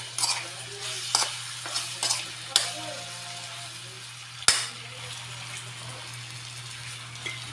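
Chicken adobo with soy sauce is stirred in a pan, with scattered sharp scrapes and clacks of the utensil over a low, steady frying hum, close by and fading near the end.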